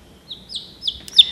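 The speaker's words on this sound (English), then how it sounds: "she was chirping inside the egg" Newly hatched chicken chicks peep inside an incubator, a few short high chirps in quick succession, rising in loudness toward the end, with no talk.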